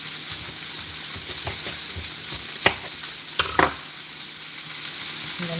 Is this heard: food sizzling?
yes